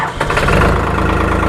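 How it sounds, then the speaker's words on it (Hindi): A New Holland 3600 tractor engine turns over and settles into a loud, rough, throbbing run right up close, with a steady low knock. "अगर आपको मैं ट्रैक्टर स्टार्ट करके दिखाऊँ"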